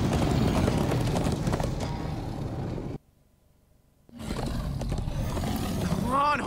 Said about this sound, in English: Come on, horses!